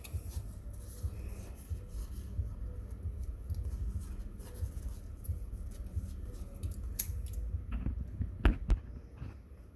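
Scissors snip through fabric thread after a knot is tied while sewing a small pumpkin wall hanger, with quiet handling rustle throughout and a few crisp cuts near the end.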